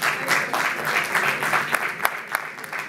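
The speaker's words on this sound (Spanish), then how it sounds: "Agradezco a mis parientes que me están aplaudiendo." An audience applauds steadily, a dense wash of many hands clapping throughout, fairly close, with a few sharper individual claps standing out near the end.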